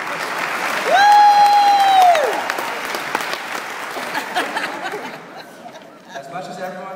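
Graduation audience at a valedictorian speech breaks into loud, sustained applause and cheering, with a long whistle rising above the clapping, crowd chatter underneath, fading toward the end as a few voices remain.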